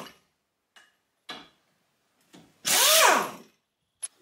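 Power tool with a long Torx 50 bit spinning out hub nuts on a Ford Transit front hub, with a few short ticks and clicks before one loud whirring burst, close by and alone.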